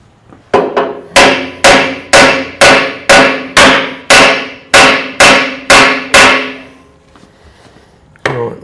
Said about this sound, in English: just hammering it